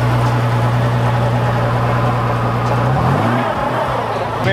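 Car engine droning loudly and steadily while the driver tries to do donuts, the pitch dropping and wavering near the end, with no talk.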